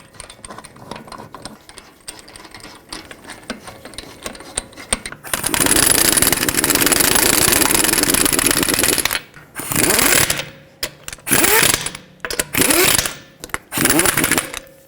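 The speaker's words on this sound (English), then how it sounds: "Put on all 5 of your lug nuts, bottom them out" A power impact tool runs lug nuts down onto a 2012-2017 Toyota Camry front wheel, with a long loud continuous rattling burst followed by several shorter hammering bursts separated by pauses.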